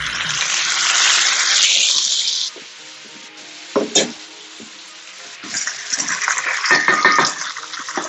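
Fiddleheads tossed into a hot pan of browned onions and garlic, frying with a steady loud sizzle that drops back, then sharp clatters of stirring and a renewed hiss of frying near at hand.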